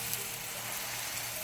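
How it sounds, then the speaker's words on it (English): Steady, close crackling sizzle of ripe orinoco bananas frying in a pan, soft and continuous with no voices. "That sizzle."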